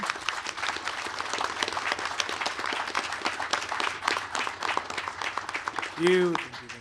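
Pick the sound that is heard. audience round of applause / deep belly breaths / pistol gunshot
audience round of applause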